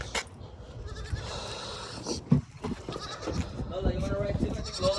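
Timmy the goat bleats in short bursts near a car, with people talking over and between the calls.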